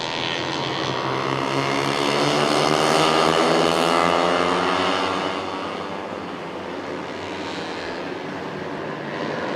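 Racing motorcycles at the Sepang circuit, a pack of four bikes with one leading, their engines blending into a loud sustained roar that swells toward the middle and then eases off slightly as they pass.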